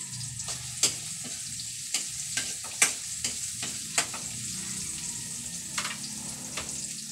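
Ginger sautés in a pan for chicken with green papaya in coconut milk, a soft sizzle broken by frequent sharp scrapes and taps of a utensil stirring against the pan, close and fairly quiet.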